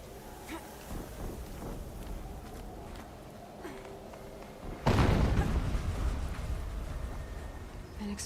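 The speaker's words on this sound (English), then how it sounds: "An explosion." In Horizon Zero Dawn Remastered, quiet windy ambience gives way to a single sudden, heavy explosion about two-thirds through, whose deep rumble decays slowly to the end.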